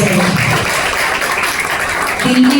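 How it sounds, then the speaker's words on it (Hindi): An indoor audience claps to welcome a speaker, a retired army colonel, at an Independence Day gathering: continuous, fairly loud applause filling the room with a dense wash of many hands. "उनको एक बार हम स्वागत करते हैं दिल की तालियों से"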